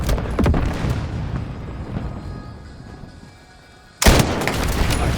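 Gunfire in Call of Duty Modern Warfare rings out in sharp, close bursts, trailing off into a quieter lull before a sudden loud volley of shots resumes near the end.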